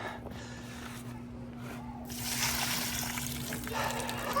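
Water drains and trickles out of boots after a four-wheeler was driven into a river, a steady close splattering that swells louder halfway through, over a low constant hum.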